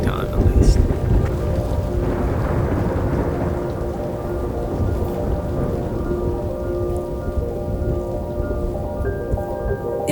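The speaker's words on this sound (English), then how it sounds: "It's so stormy." A thunderstorm at Monument Valley, Utah, rolls on with loud, continuous rain and a deep thunder rumble at the start, the heavy downpour steady for the whole stretch.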